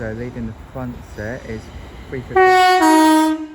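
A London Northwestern Railway Class 350 electric unit arriving at Milton Keynes Central on the West Coast Main Line blasts a loud, sustained two-tone horn after someone talks, the chord holding steady for about a second.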